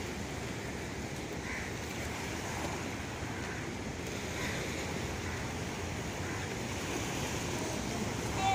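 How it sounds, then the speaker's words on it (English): Surf washing onto the shore at Chimbai beach by Bandra Bandstand, a steady broadband roar with wind noise that holds at an even level throughout, with no distinct individual breakers standing out. "So this is the Chimbai beach."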